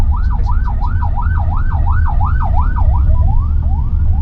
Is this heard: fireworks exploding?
no